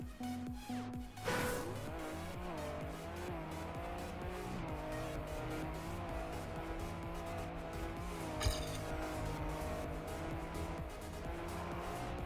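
A car engine drones steadily in a racing video game, with shifting pitch and tire noise running continuously and loudly throughout.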